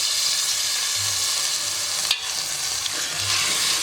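Tomato paste sizzles and fries steadily with a little beef stock while a utensil scrapes and stirs through it in occasional strokes, close up, with no voices.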